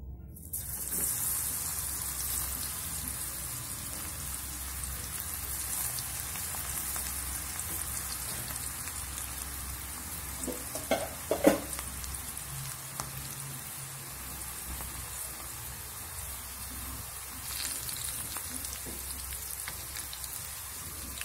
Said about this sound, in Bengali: তেলে খুব বেশি দেওয়া যাবে না, অল্প অল্প করে দিয়ে ভাজতে হবে।